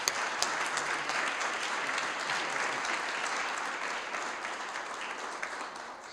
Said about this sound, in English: So give this man your attention and your applause.